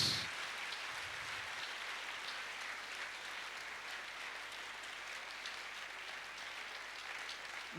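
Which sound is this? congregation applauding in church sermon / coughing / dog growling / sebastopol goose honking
congregation applauding in church sermon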